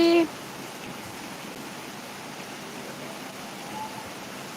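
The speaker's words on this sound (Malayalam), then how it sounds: "നല്ല സൂപ്പർ മഴ മഴ കാണാവോ കുറേ എത്തി സാവകാശ മഴ ഇങ്ങനെ നിന്ന് പെയ്യുവാണ്" Slow, steady summer rain falls outdoors as an even, unbroken hiss that continues at a moderate level throughout.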